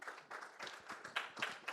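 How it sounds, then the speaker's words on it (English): Faint applause from a presentation audience, a handful of people clapping in uneven bursts at a distance, thin and brief. "Let's give him a great round of applause"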